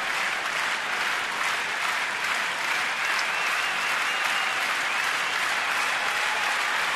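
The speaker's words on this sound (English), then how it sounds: "Clapping in unison, this big crowd." A big crowd at a Marlins–Nationals baseball game in a stadium claps together, heard as a continuous, even roar of hands and crowd noise that holds at a steady level throughout.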